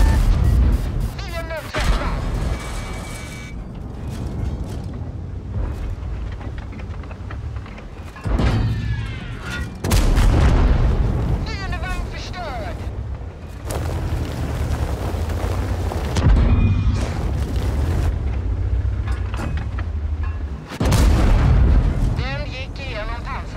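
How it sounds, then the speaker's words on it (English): Artillery shells slam into a Tier X tank in World of Tanks, loud booming impacts and explosions recurring every few seconds over constant rumbling battle noise, with heavy hits near the start and again around the middle and end. "This is when I get shot by artillery"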